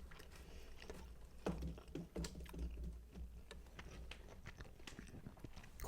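Crunchy bites and chewing on a croquidelle, breaded chicken with tomato, up close: several sharp crunches between steady mouth noises, no talking.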